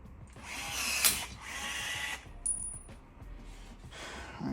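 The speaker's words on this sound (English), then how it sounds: "Now we'll get our rivet and put us a rivet" A rivet is set in the ring of a quad-row high-intensity wheel light, heard as two bursts of harsh whirring from a power tool, with a sharp metallic ping between them and another short whir at the end.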